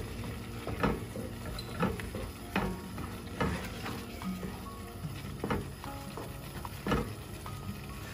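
Butter chicken being stirred in a pan, a soft low sizzle under repeated scraping and slurping strokes of a spoon through thick gravy at a steady, unhurried rhythm.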